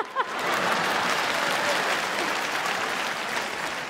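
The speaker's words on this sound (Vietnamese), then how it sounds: "Ủa sao vỗ tay?" Steady audience applause at a Vietnamese overseas comedy stage show, a dense, even wash of clapping lasting a few seconds without break.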